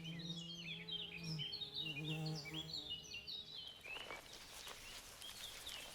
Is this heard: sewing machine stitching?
no